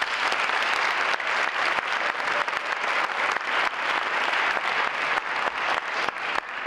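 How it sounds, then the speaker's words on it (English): An audience applauding at a school gathering, sustained dense clapping from many hands that holds steady and loud throughout with no talk over it. "If you can help me give them a round of applause."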